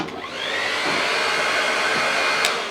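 A hair dryer on its cold setting blows to dry wig adhesive on a frontal wig. Its close, steady whirring whine holds evenly throughout.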